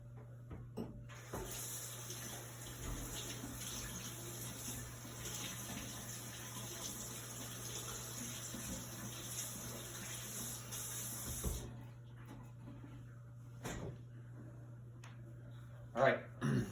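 A dyed item is rinsed under a running tap, a steady hiss of flowing water for about eleven seconds before it shuts off, followed by faint handling sounds, with a voice talking over it.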